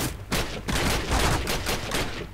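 Rapid, dense bursts of M1 carbine gunfire driven by an auto clicker in a zombie video game, loud and nearly continuous shots pulsing in quick rhythm with only brief gaps.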